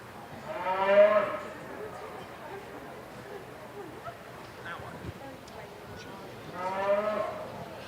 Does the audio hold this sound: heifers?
yes